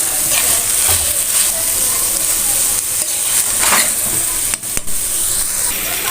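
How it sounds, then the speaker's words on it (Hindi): Shredded cabbage, carrot and capsicum stir-frying in a hot pan, giving a constant loud hiss and sizzle with occasional scraping stirs and a brief pause near the end. "बंद गोभी काट के, थोड़ी सी कैरेट और थोड़ी सी शिमला मिर्च इसमें डाल दें और अच्छे तरीके से"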